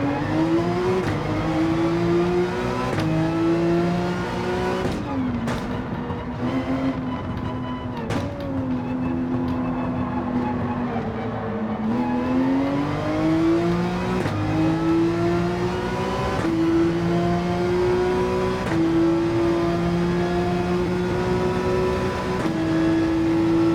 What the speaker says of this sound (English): At 115 miles per hour in the bendies, the Porsche is about to let go